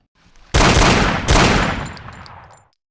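Two loud, close gunshot bursts ring out in the Hidden & Dangerous 2 shooter, each a harsh blast trailing into a fading echo, with no one speaking.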